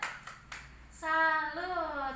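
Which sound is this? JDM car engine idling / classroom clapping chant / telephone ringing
classroom clapping chant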